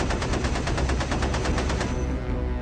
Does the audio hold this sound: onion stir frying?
no